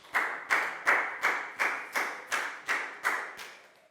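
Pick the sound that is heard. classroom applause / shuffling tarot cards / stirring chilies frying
classroom applause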